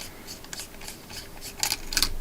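Lens element being unscrewed during disassembly of a Nikon Nikkor 35-70 2.8 zoom lens, heard as soft, close scraping and rubbing bursts that grow a little louder toward the end, with no talk.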